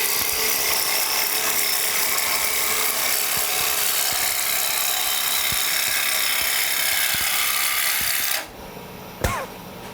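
Wood on a lathe being cut with a turning tool, its bevel riding along the edge, giving a steady loud scraping hiss that runs almost continuously, then stops near the end with a brief knock.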